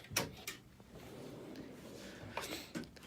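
Drawer of a Snap-on KRL7022 tool box sliding open or shut, faint clicks and a soft rolling rumble, quiet and close, with a couple of sharper knocks.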